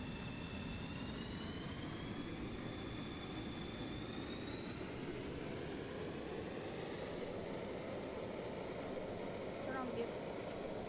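A jet aircraft engine runs steadily in the game Stormworks, a constant whooshing roar with a rising whine, under faint background talk.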